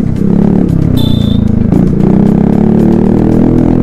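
A Kawasaki ZX-10R superbike's exhaust roars loudly up close, a steady heavy engine note with a short rising rev and some clatter in the middle.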